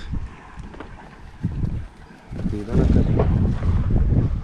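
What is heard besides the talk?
strong wind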